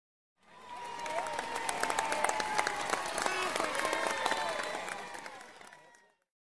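A crowd at a Winter Olympics bobsled finish line cheers and applauds in one short burst that swells and fades over a few seconds.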